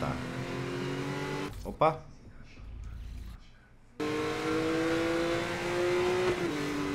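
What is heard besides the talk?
car engine revving in video game Need for Speed Most Wanted 2012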